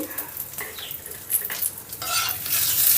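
Half an inch of ginger fries in a pan for tomato chutney, giving a soft, steady sizzle broken by scraping stirs and occasional clinks of a utensil against the pan, close and moderately loud.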